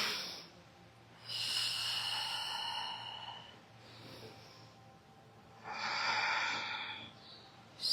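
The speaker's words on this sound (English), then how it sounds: "Let's take 3 breaths." Deep breaths during a hip-opening yoga stretch, slow airy inhales and exhales in three long swells with quiet pauses between, close and alone.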